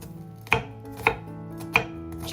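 A knife cuts boiled meat into small pieces on a cutting board four times at a slow, even pace, each cut a sharp close thud.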